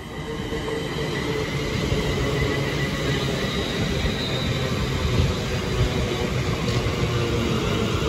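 A train rolls through Stafford station in a steady, loud, continuous rumble of wheels on rail, with faint squeal from the wheels and no talk.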